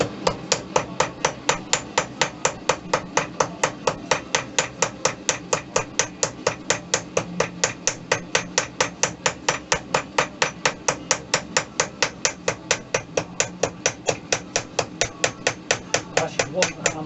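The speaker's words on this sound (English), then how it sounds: "I actually want the hammer marks to come down onto the main part of the metal as well, just on the seam" Steady, rapid hammer blows ring out on a silver sheet as a folded seam is worked flat, close and evenly paced, with dozens of bright metallic strikes and no talking.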